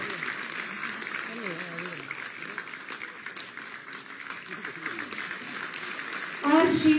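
Audience applause at a ceremony in Lucknow, steady clapping that runs throughout under a voice announcing names over a PA, with a brief louder burst near the end.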